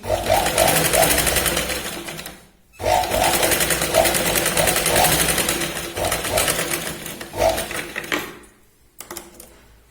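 A sewing machine double-stitches a katori blouse, running in loud, steady close-up bursts with a short pause near the start and another near the end.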